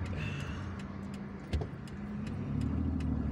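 A car circling a square in light traffic in Algiers, its engine humming low and steady from inside the cabin, with a soft bump partway through and no talking.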